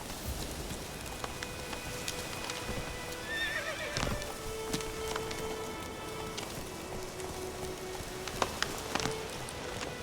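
Roach the horse in The Witcher 3 whinnies and plods with clip-clopping hooves through light rain, faint and somewhat distant, with scattered clicks and no speech.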